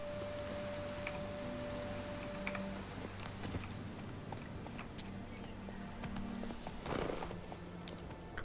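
Geralt's horse Roach gallops in The Witcher 3, with steady clip-clop hoofbeats close by over a low game ambience and a short tone, plus one louder scuffle near the end.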